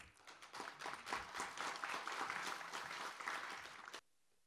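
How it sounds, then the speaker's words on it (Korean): Audience applause at a policy symposium greets the committee chair as he comes to the stage, a steady wash of many hands clapping for about four seconds before cutting off sharply. "뜨거운 박수 부탁드립니다"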